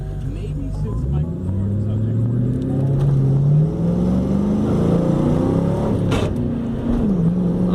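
A 1998 Ford Mustang GT with a manual gearbox and stiff racing clutch revs loudly up close during a hard acceleration pull. The engine note climbs steadily, drops at a shift near six seconds, then rises again.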